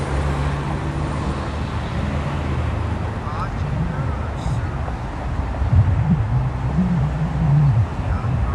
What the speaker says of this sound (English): There's one of those 76 buses